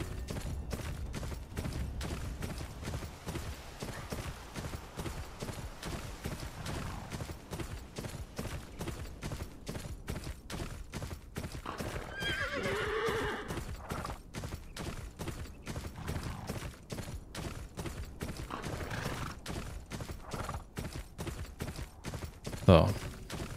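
Rapid, steady hoofbeats of a galloping horse in the video game Game of Thrones: Kingsroad drum on continuously, with faint talk and game sounds mixed underneath.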